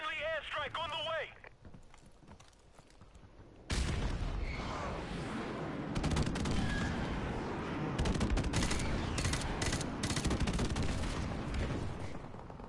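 Airstrike in Modern Warfare Remastered, with a sudden loud onset of heavy gunfire and explosions that keep rumbling and crackling for several seconds, dense and continuous, with voices talking over the battle.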